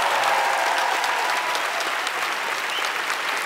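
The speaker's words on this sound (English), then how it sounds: "Let's have a round of applause for this magnificent company who've come out to perform for us" A theater audience applauds a performing company with dense, sustained clapping. The sound is loud and even from start to finish, with no voices on top.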